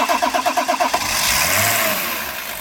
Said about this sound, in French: Là, vous avez le son du 6 cylindres et vraiment c'est plaisant à écouter.